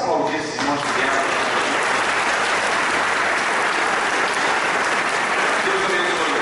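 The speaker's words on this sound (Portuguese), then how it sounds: "Vamos aplaudir esses irmãos que vieram." Church congregation applauding, a thick wash of many hands clapping steadily for several seconds, close and loud, with voices faintly mixed in.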